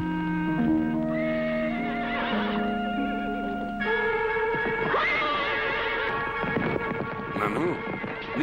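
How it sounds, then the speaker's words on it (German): Horses neighing loudly in long, wavering whinnies, one after another, with clip-clopping hooves beneath and a steady musical hum running throughout. "Niemand darf diese heiligen Pferde reiten."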